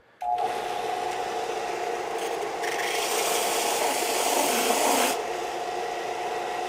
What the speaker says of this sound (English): what I'm doing is like barely sanding and barely sanding